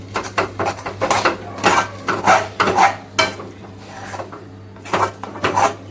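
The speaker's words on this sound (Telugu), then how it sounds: "సో ఇదిగోండి ఆ పీసెస్ని ఇలాగా మిక్స్ చేసేసి" A spoon scrapes and clinks around a pan as chopped mango pieces are stirred into thick mango halwa, giving close, rhythmic rubbing strokes with small knocks against the metal.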